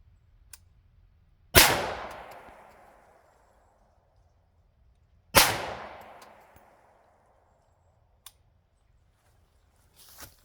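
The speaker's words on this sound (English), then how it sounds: "We're gonna fire it a few times and see what it does." Great Lakes 350 Legend rifle with pop-up sights fired outdoors: two loud, sharp cracks several seconds apart, each with a long fading echo, followed by a few faint clicks and small knocks.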